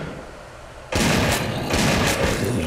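Rapid gunfire from the zombie video game ZombieCraft, aimed at a flock of bats: sudden loud onset of dense, repeated shots that continue steadily for about two seconds with no voices.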